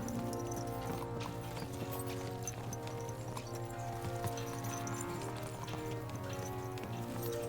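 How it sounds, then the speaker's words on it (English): Horse hooves clip-clop at a steady rhythm in the medieval game Kingdom Come: Deliverance II, moderately loud and continuous under a thick layer of music. "Let's really spur these horses on, eh?"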